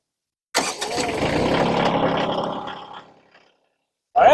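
Kioti CK2620 compact tractor engine running at low throttle while lifting a pallet of about 1,500 pounds: a close, steady rumbling drone that fades after a few seconds, then a brief burst of voice.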